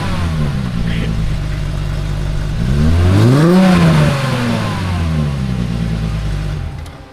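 A Volkswagen Golf Mk3 engine idles close by, then climbs into one sharp rev that peaks and falls back to a steady idle, loud and throaty throughout.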